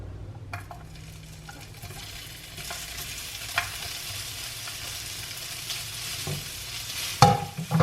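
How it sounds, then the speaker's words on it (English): Tempeh fries in a pan with a soft, even sizzle at moderate loudness, ending in a sudden clatter of pan or utensil. "let's see if this tempeh go on the pan"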